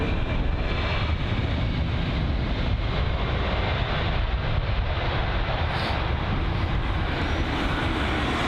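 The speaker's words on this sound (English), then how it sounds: "Another BA jet this is for its arrival into runway 27 right" A British Airways jet lands on runway 27R at London Heathrow, producing a steady, broad roar of engine and rushing air, moderately loud and distant, with no voices over it.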